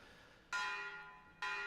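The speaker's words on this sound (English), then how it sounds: "So the first thing we're gonna do is ring this bell." A large metal bell in Metro Exodus rung to lure a giant catfish, two clear loud strikes about a second apart, each ringing with a long sustained metallic tone that slowly decays.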